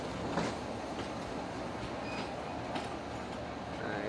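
KA Cikuray passenger train pulling into Nagreg station, a steady rumble of rolling wagons with faint wheel clatter and squeal, heard alone at moderate distance.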